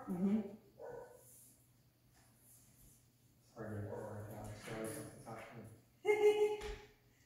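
A dog gives a few short barks and yips at close range, in separated bursts with quiet pauses between them.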